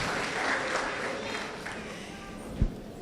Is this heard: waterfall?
no